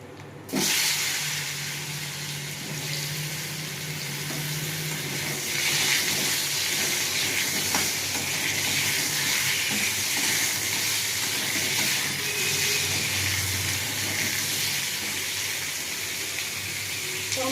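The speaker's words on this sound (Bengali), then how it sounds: "এবার আমি ফোড়ন দেবো, শুকনো লঙ্কা আর পাঁচ ফোড়ন।" Dried red chilies and panch phoron dropped into hot oil in a kadai, a sudden loud, steady sizzling hiss that starts abruptly and holds on without pause, close up and with no talking.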